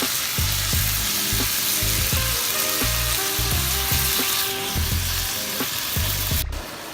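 Beef pieces sear in a pan for beer-braised chili, cooked toward medium rare to medium, giving a loud, continuous close sizzle over a rhythmic backing of music.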